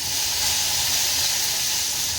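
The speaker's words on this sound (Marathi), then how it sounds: "हे सगळं इथे छान परतून घ्यायचं आहे, त्यामुळेच ना खमंग फोडणी बसते" Cumin, curry leaves, finely chopped garlic and green chillies fry in hot oil for a Marathi tempering, producing a loud, dense, continuous sizzle that holds steady close up with no voices.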